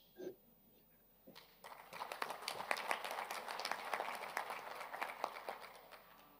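A round of applause from a conference audience breaks out after a faint early blip, swelling into steady dense clapping that holds at a moderate distance.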